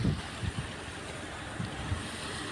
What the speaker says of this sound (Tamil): தண்ணி சவுண்டு சூப்பராக இருக்கும்